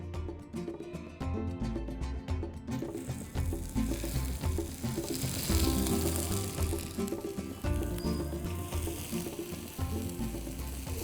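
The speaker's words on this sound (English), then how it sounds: "You want to make sure the grill is nice and hot before you add in your prawns" Tiger prawns in olive oil on a hot grill, sizzling and crackling steadily and close for about eleven seconds, with a soft music bed underneath.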